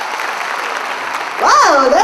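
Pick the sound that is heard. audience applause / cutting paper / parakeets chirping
audience applause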